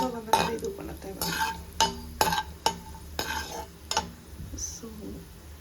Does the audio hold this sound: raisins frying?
yes